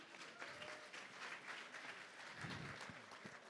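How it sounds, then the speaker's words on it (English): A crowd at a livestreamed awards event applauds an arriving guest, a faint, dense wash of clapping sustained across the whole moment, with a few low thumps near the end. "A round of applause for him, please."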